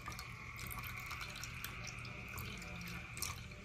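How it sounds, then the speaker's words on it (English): Paint trickles steadily into a container resting on a scale, a soft continuous liquid pour with a faint hiss, quiet and close. "So I'm gonna pour that in."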